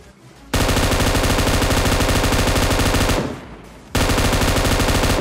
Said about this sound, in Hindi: यहाँ पे भाई साइड से फायरिंग की साउंड आने लगती है